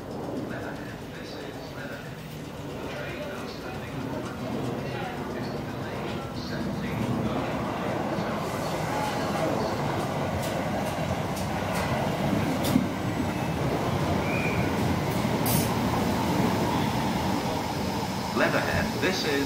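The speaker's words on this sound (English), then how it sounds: "approaching platform 1 is the 1711 Southwest train service to London Waterloo" A South Western train pulls into the platform at Leatherhead station, its steady rumble and rail noise growing louder as it approaches, with faint clicks and brakes over the station ambience.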